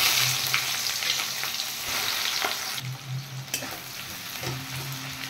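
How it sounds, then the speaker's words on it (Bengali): Chopped onions fry in hot oil in a wok for a kabuli chana dish, a steady close sizzle broken by occasional stirring scrapes, with no voices. "তেল গরম হয়ে গেছে, আমি পেঁয়াজ ভেজে নিচ্ছি।"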